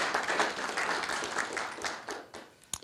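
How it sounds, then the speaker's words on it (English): Applause from an audience at an innovation challenge awards event, a dense steady patter of clapping across the whole span, fairly close, with a brief sharper burst at the end. "Let's give them a round of applause."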